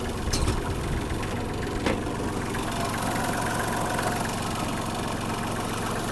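A Kubota GL-200 Japanese mini tractor with a D1403 diesel engine idles steadily close by, a continuous low mechanical drone with a faint knocking texture and a couple of brief clicks early on, no voices.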